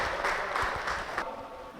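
An indoor training-seminar audience claps together, a short burst of brisk applause that fades out quickly, fairly faint and alone.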